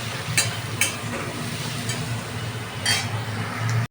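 Onion, garlic and Kashmiri chilli powder fry in a pan for an egg and paneer dish, giving a soft steady sizzle with a few sharp utensil clinks and scrapes, close and without talk.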